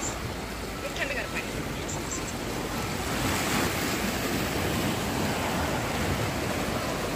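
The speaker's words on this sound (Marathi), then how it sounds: "याकडे बघा कसं पाणी फेसाळते" Sea waves surge and foam against the rocky shore at Malvan's Rock Garden on the Konkan coast, a continuous close roar of churning water with wind buffeting the microphone.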